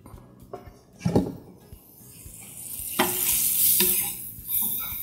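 Chicken stirred in a hot frying pan for chicken fatteh hisses loudly and continuously, swelling as the pieces are turned. Several distinct scraping strokes cut through the sizzle.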